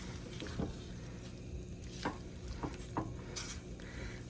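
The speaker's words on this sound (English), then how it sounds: "We're going to give it a really good stir." Beef broth and vegetables are stirred in a pot, giving a soft continuous wet swish with a few distinct scraping knocks of the spoon against the pot, heard close and without talking.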